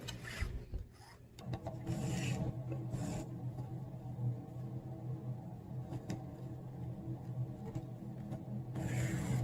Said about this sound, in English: I am just sewing the fabric onto the tape